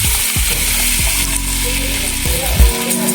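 Tamarind ginger sauce poured into a hot tempering crackles into a loud, continuous sizzle, with a few clatters of stirring, close up and with no talk.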